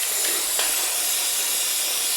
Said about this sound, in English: Give it a nice rinse.